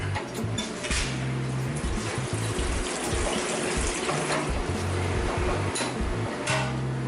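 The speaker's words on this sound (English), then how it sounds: "Turn the water back on." Water runs from a tap after a new valve is fitted, a close steady splashing stream with brief bursts and low rumbles, alone without talk.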